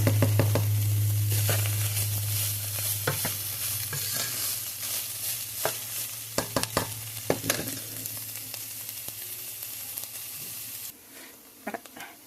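White onion softening in a skillet for a one-pot Mexican beef and rice dish, a soft steady sizzle with scattered spoon taps and stirring scrapes, close, after a low hum fades out early.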